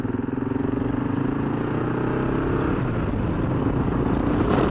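A 2017 BMW GS 1200 Adventure motorcycle rides through green countryside hills with a steady, close, low engine drone and wind rush, holding an even pace without revving and with no voices.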